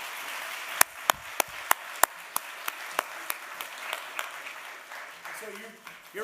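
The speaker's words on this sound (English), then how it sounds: "So let's give him another round of applause." At a leaders' summit, a series of sharp, distinct claps comes at a quick, regular pace and fades gradually, with voices murmuring in the background.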